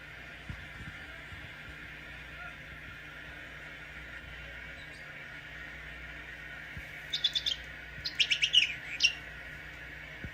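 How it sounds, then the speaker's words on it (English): A chirping toy lets out a rapid cluster of short high squeaky chirps near the end, after a long stretch of quiet room noise. "he's not even interested in the chirping toy today"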